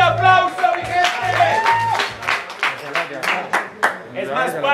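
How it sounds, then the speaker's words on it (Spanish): A freestyle rap battle audience at Pre-Red Bull Gallos Colombia 2020 breaks into clapping, with a burst of uneven hand claps mixed with a voice and crowd noise. "tiempo, fuerte aplauso, mi gente"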